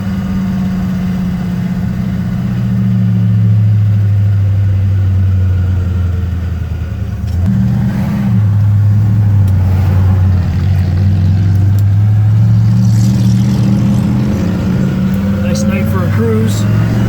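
A 1967 Pontiac GTO V8 idles steadily while warming up, a deep loud rumble close by, with a few brief revs lifting the engine note partway through.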